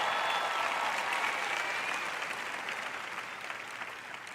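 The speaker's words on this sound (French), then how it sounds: "Allez, acclamez Dieu." Church audience applauding and cheering in a sustained burst of dense clapping that slowly fades, fairly loud.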